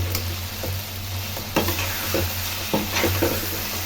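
Rice balls hit hot oil in a pan and fry with a steady, close sizzle, with occasional sharp scraping knocks as a utensil stirs them.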